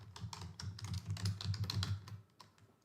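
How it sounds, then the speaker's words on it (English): Someone types fast on a computer keyboard nearby, and the quiet, clicky keystrokes fall in quick, uneven bursts with no one speaking. "after typing recipe cards and you press the enter key"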